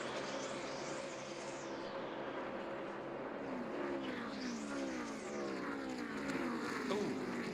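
NASCAR Sprint Cup race cars at Pocono in the 2009 Pocono 500, among them Kyle Busch's M&M's Toyota, roaring past in a steady engine drone with rising and falling doppler sweeps as cars pass, heard at a distance with no talk.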